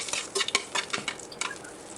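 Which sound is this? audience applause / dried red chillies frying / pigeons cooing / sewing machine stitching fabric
dried red chillies frying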